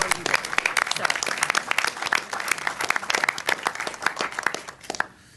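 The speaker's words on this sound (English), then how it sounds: "A round of applause for Randy." A crowd applauds with dense, continuous clapping that holds steady for several seconds, then quickly fades out at the end.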